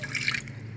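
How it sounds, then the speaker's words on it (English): Vinegar is poured over raw chicken pieces with skin soaking in a bowl of water to defrost and clean, a short, close liquid splash and trickle that fades quickly, with no talking. "Then I pour some vinegar"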